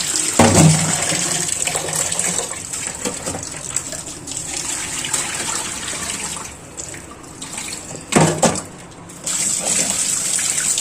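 Tap water runs steadily while fish are washed beneath it, a constant close gush with louder splashing bursts near the start and again around two-thirds through, no speech over it.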